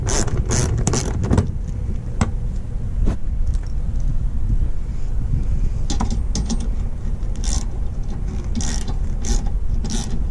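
Ratchet clicks and metallic clanks come from loosening bolts on a 5th-gen Toyota 4Runner TRD Off-Road, in irregular bursts of rapid clicking outdoors with light wind noise.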